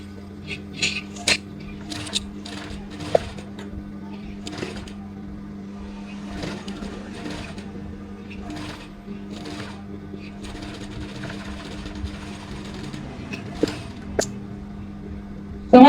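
A sewing machine stitches a bias strip onto the armhole of a baby girl's frock, with a steady mechanical hum and faint rhythmic clicks running the whole time under occasional light handling noises.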